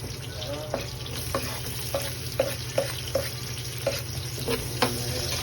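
Garlic frying in a pan for a Bicol-style dish of santol cooked in coconut milk, with a steady low sizzle broken by several sharp stirring clacks of a utensil against the pan, close and moderately loud.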